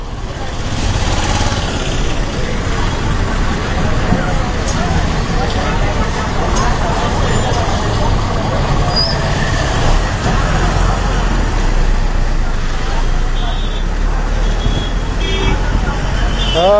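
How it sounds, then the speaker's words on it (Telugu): A bus bound for Tippalakatta pulls away amid busy road traffic, its steady engine rumble blending into continuous dense traffic noise with an occasional horn toot, while people talk over the din. "తిప్పలకట్ట బస్సు బయలుదేరింది"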